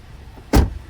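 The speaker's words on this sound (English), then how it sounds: "yeah, it clicks badly, and it's like really hard." A 2014 Jeep Compass door with a stiff, faulty latch shutting with a single sharp click-thud, close and alone after a quiet moment.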